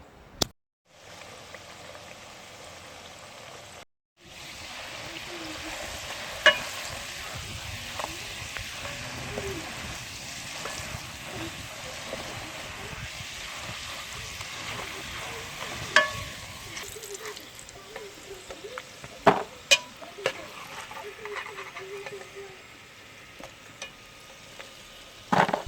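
Jackfruit seeds and sweet potato frying in a pan over an outdoor wood fire, a steady soft sizzle with occasional stirring clatter and sharp pops, close and moderately quiet, with no talking.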